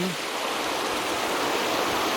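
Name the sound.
mountain stream flowing over boulders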